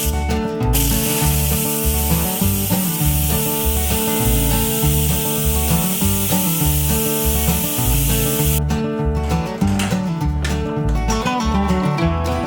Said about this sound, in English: now we're just going to move that lever to venting instead of sealing